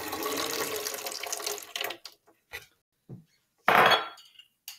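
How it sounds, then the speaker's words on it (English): Water poured into a container for a spring-scale force measurement, a splashing pour lasting about two seconds followed by a few scattered clinks and splashes and one louder burst of water near the end. "For 4, I'll put the water in."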